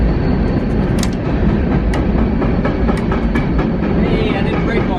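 A train rolls past close by with a steady loud rumble and repeated clickety-clack of wheels over rail joints, lasting throughout.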